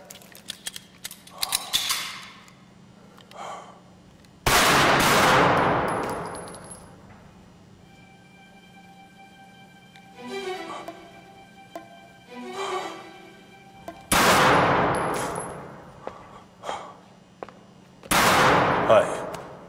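Gunshots on a firing line, a few loud single blasts with long decaying echoes spaced several seconds apart, with brief voices and metallic handling between shots.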